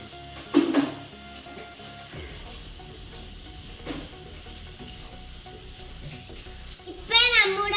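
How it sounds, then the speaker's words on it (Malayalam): Ripe banana and grated coconut stirred in a hot pan, a soft continuous sizzle with scraping strokes and a couple of louder clatters of the spoon against the pan, no voices. "അതിലേക്ക് നമുക്ക് തേങ്ങ ഇടാം. ഇനി നമുക്ക് നന്നായി ഇളക്കി കൊടുക്കാം."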